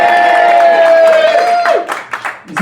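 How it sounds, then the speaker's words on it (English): A live audience at a comedy Star Trek versus Star Wars debate cheers and whoops loudly for about two seconds, the roar then breaking into scattered shouts that fade out. "Give a cheer if it's Spock!"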